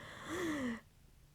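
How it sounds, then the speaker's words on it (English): A person yawns once in a soft, brief, drawn-out breath with a rising then falling tone, close and quiet, ending abruptly into near silence. "I'm yawning."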